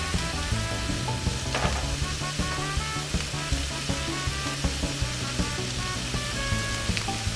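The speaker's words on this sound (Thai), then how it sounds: "ใส่พริกหยวกและหอมหัวใหญ่ที่เราเตรียมไว้เรียบร้อยแล้วนะคะ ใส่ลงไปผัด" Bell pepper and onion sizzle steadily while being stir-fried in a pan for spicy Thai stir-fried instant noodles with pork, with faint clinks of stirring over the constant hiss.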